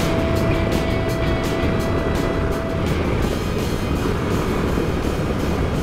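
A Royal Enfield motorcycle with a liquid-cooled engine cruises at about 88 km/h, its steady engine drone wrapped in loud, continuous wind rush from riding, with no breaks or shifts.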